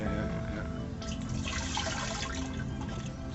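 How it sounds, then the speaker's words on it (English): Water is poured into an arsenic water filter made from cheap materials in a flood-affected area, giving a continuous, moderately loud splashing, trickling flow that lasts the whole stretch with no talk. "So what they do, they have water and they just put it in there."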